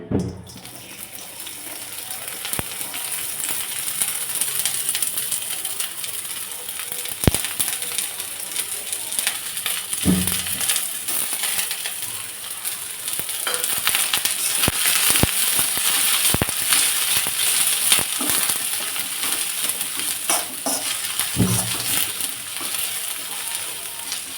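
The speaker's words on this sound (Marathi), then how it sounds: "थोडासा हलका लालसर कलर येपर्यंत कांदा परतून घ्यायचा आहे" Chopped onion frying in a little oil in a wok, a soft continuous sizzle with scraping stirs and occasional sharp clicks of a spatula, steady and close without talk.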